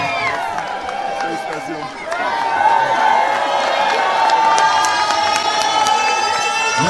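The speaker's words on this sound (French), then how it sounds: "On applaudit très fort s'il vous plaît" A crowd at a school Christmas prize-giving ceremony claps and cheers, dense sustained applause with shouts and whoops, swelling louder partway through.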